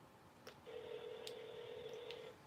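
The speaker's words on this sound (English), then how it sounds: "My phone is tripping." An iPhone gives a steady electronic tone lasting under two seconds, with a higher overtone above it and a few sharp clicks before and during it, heard faintly and alone.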